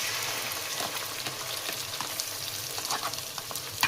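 Ground masala for dhaba-style Hyderabad paneer masala sizzling and frying steadily in a pan, with scattered stirring scrapes and pops over a constant hiss, close and fairly quiet.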